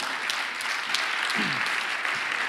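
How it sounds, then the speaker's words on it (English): Warm audience applause for a panel at a conference afternoon session, a soft, even patter of many hands held at a moderate distance, with a faint voice surfacing midway. "A good warm hand of applause for our panel."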